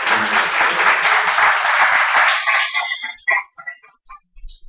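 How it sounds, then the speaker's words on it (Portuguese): Audience applause welcoming a philosopher's lecture on Maimonides, reason and faith: dense clapping for about two and a half seconds, then thinning to a few scattered claps and faint room noise. "Eu peço uma sala de palmas para dar as boas-vindas."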